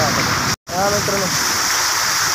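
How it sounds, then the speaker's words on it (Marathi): Heavy monsoon rain pours down in a steady, dense roar that fills the whole stretch, briefly broken by a short dropout, with a voice heard faintly beneath. "खतरनाक मित्रांनो पाऊस होतो"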